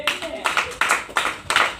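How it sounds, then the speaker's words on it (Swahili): A church congregation claps along in a steady rhythm of sharp, evenly spaced bursts during a sermon, with a voice heard alongside. "Piga makofi kwa Yesu"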